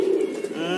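Pigeons cooing in a pigeon loft, a close, soft, continuous murmuring coo with a faint voice in the background.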